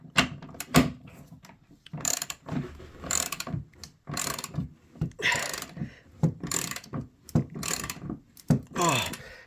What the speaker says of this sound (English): Get my wrench.